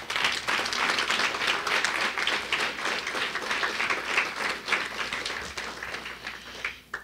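An audience at a CUNY Aviation Institute family night gives a sustained round of applause, many hands clapping steadily at moderate distance before tapering off, with a faint voice near the end.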